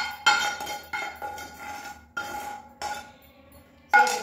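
Ragi dosa batter mixed with sautéed onion, chana dal and urad dal: a spoon repeatedly knocks and scrapes against the bowl in about six distinct, close strokes.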